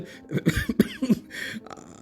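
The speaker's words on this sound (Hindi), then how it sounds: "तंबाकू नोशों की मखसूस खांसी खांसते हुए बोला" A harsh, rattling smoker's cough comes in several hacking bursts, close up, with some throat clearing and no talking.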